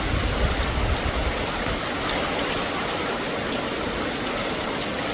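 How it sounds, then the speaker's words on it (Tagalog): Heavy typhoon rain and wind from Typhoon Kristine pour down in a dense, steady roar, a continuous loud wash of water with no breaks and no voices. "Sobra-sobra ang bigay ng tubig at hangin."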